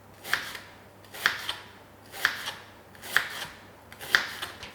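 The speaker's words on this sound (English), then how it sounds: "Make sure you thinly slices, just long thin slices." A regular kitchen knife slicing an ingredient into long thin strips on a board, five evenly spaced crisp cuts about a second apart, close and fairly quiet.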